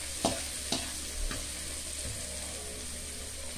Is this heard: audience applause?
no